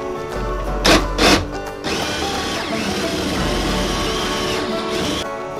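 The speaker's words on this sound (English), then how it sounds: "now I'm going to drill up to make a relief with the Forstner bit" A power drill with a Forstner bit bores a relief hole for a sink in a bus bathroom build, a steady loud grinding whir with a couple of brief revving surges at the start.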